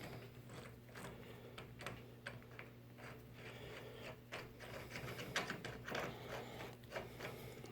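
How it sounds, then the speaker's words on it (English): A crank puller being threaded into a bicycle crank arm on a Bafang 1000W e-bike, giving faint, steady ratcheting and clicking mechanical sounds with no talking. "you're going to need a crank puller. Just threads into the crank arm."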